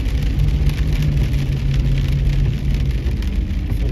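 Steady rain pattering on surfaces close by in California, with a low rumble of passing traffic underneath.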